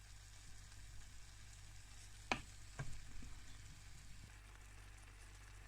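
Low steady bubbling and sizzling of an apple pie filling sauce simmering in a pan, with a couple of sharp clinks of a utensil partway through.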